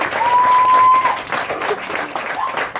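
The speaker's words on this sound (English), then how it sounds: "we should give a big round of applause for them" An audience applauding water protectors at a festival gathering, a loud wave of clapping with a high whistle at the start, cheering and scattered whoops continuing as it thins out.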